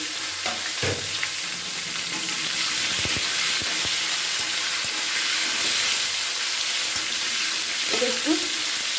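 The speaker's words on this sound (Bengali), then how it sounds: "এখানে পেঁপে সিম আর ডাটাটাকে আমি এর মধ্যে দিয়ে একটু নাড়াচাড়া করে নেব" Papaya, broad beans and drumstick stalks stir-fry in hot oil with dry red chilli and bay leaf, a dense continuous sizzle broken by a few clanks and scrapes from stirring, close up with no voices.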